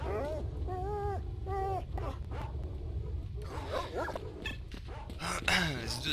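Several dogs bark, yip and whimper in the game S.T.A.L.K.E.R. Shadow of Chernobyl, with repeated close, agitated calls. A voice talks over them.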